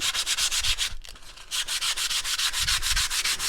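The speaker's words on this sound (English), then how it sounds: "Again, I'm sanding in the same direction." Sandpaper scrapes across wood in quick, regular back-and-forth strokes, close and loud, with a brief pause near the start.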